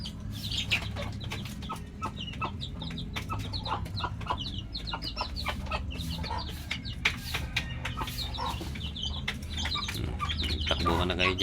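Backyard chickens at feeding time keep up a busy chorus of clucks and short chirps, many birds close by and overlapping continuously against a low background rumble.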